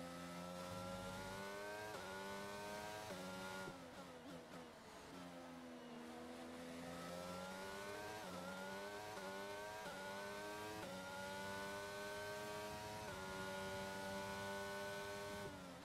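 An F1 car engine in F1 22 accelerates through the gears, a high, buzzing whine that climbs in pitch over and over, each rise broken by a brief drop at the shift. It is steady and fairly faint.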